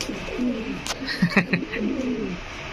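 Fancy pigeons coo at a breeding farm, several soft, throaty rolling coos repeating close by over a low background hum.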